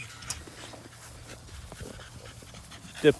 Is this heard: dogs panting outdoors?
yes